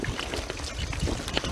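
Water overruns and pours continuously on a farm, a close, steady splashing rush with fluctuating gurgles and no pause throughout.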